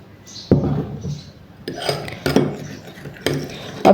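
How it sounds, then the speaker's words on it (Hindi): A spoon scrapes and clinks in a small bowl while mixing honey with two other ingredients for a home remedy, a few distinct bursts of stirring close up with brief quiet gaps between. "अब ये ऐसे इन तीनों चीज़ों को मिक्स करें"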